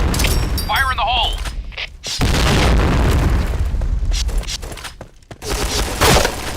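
A grenade explodes in the shooter game Point Blank with a heavy boom and a crackling burst, among gunfire and other in-game effects, while players talk over it.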